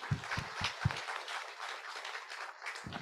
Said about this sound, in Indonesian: kita berikan tepuk tangan untuk Ibu Regina.